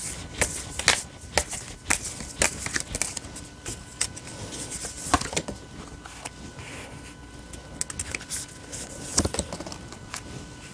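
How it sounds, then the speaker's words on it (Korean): Tarot cards shuffled and drawn by hand, giving a crisp run of papery riffles and slaps that come in irregular bursts, close up and moderately loud, with no talking. "7월달 여러분들을 위한 좋은 카드를 뽑아보도록 하겠습니다"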